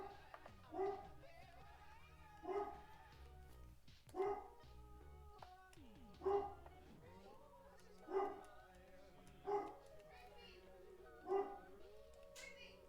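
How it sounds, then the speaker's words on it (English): A dog barks in repeated sharp bursts, about seven evenly spaced woofs with whimpering whines between them, fairly close and moderately loud. "We're just gonna ignore my dog."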